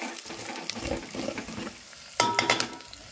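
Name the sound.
sliced onions frying in pan, stirred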